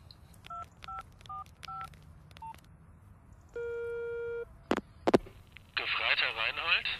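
A mobile phone being dialed: a quick series of keypad tones, then a long steady line tone, a few clicks and a burst of noisy signal, heard quietly and close.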